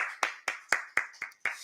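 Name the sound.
congregation applauding in church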